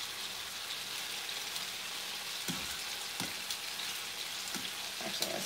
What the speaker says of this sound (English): Yep, it's getting a nice sear.